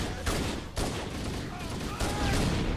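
Rapid gunfire from a Halo: Combat Evolved firefight against aliens, with sharp repeated shots and bursts ringing out close and loud over a dense layer of battle noise throughout.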